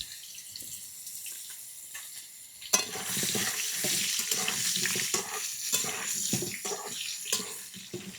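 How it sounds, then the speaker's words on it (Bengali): Hog plums drop into hot oil with a sudden loud sizzle that continues as a steady, close frying hiss broken by stirring scrapes, after a quieter stretch at the start. "এই আমড়াটা তেলের উপরে দিয়ে হালকা একটু ভেজে নিতে হবে"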